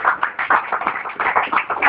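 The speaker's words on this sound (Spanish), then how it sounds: "Dele palmas al Señor, hermanos." A church congregation clapping their hands together, many palms beating in a quick, dense, fairly steady rhythm, close and loud with no talking over it.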